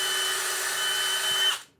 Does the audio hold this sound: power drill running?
yes